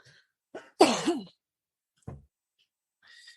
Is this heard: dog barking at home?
no